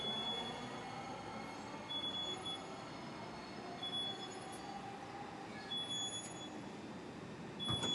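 Honolulu Skyline metro train pulling into a station, a steady close rumble of the cars with thin, sustained wheel squeal tones running through it and no voices.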